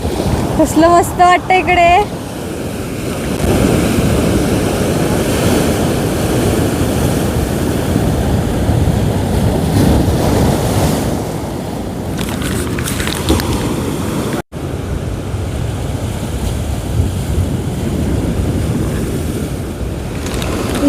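Large sea waves crash and roar continuously along the Konkan shore at Mirya, loud and close with heavy wind buffeting, while someone talks excitedly early on.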